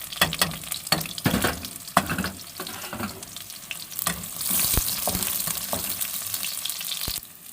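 Onions hitting hot garlic oil in a pan, a loud crackling sizzle with scraping stir strokes and clanks of the spatula, the frying building steadily and continuing throughout.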